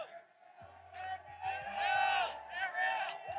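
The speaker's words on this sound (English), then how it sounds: "listen to this crowd" Crowd at a UFC 244 press conference in New York whooping and cheering loudly, rising and swelling in waves, with shouts carrying over low rumbling below.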